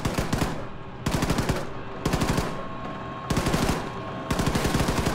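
Machine gun fire in the video game Wolfenstein 2: The New Colossus, coming as five loud, evenly spaced bursts of rapid shots separated by short pauses.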